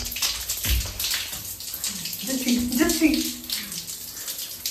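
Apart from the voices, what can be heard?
water running from a hotel shower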